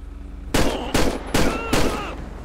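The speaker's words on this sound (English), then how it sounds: "Dispatch, shots fired!" Four loud, sharp gunshots in uneven succession from a police-mod shooting game set in a park ranger shootout, each one a close crack with a short ring-off.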